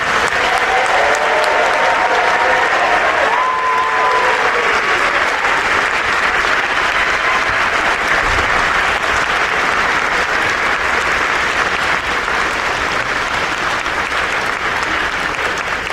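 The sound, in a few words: audience applause for the class of 2027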